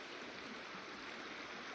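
River flowing past a sandbar campsite in the Frank Church wilderness, a steady, even rushing wash of water heard alone with no voices.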